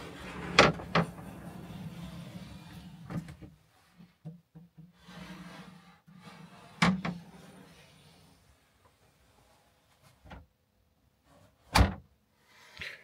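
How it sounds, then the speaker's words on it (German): A door in a small heated living space opens and closes, with several sharp knocks and clunks spread across the stretch, the loudest near the start and end, plus quieter rubbing and shuffling in between. "Hier haben wir noch eine Türe."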